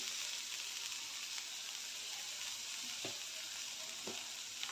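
Crushed ginger and garlic sizzling in a pan, a soft, even crackling hiss held steady throughout with a couple of faint taps.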